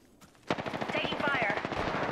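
Rapid automatic gunfire in the video game Apex Legends, a dense burst of close, loud shots starting abruptly and continuing as a steady rattling stream, with a voice audible underneath.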